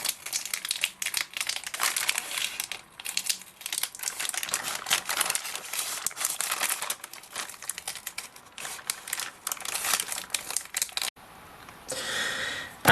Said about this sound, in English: I couldn't get the tape off of the paper. I couldn't get the paper off of the tape.